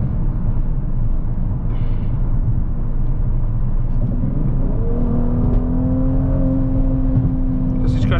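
A Mercedes GLC 43 AMG drives along a road, heard from inside the cabin as a steady, loud low rumble of engine and tyres. Partway through, a rising engine tone swells as the car picks up speed.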